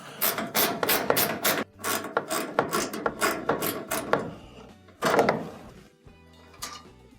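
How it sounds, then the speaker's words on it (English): A small 1/4-inch screw is twisted out of a dryer's top panel, giving a rapid series of close, sharp metallic clicks and ratcheting scrapes that pause, then resume in short bursts. "Twist that screw out and set it to the side"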